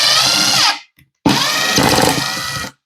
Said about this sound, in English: driving screws is really easy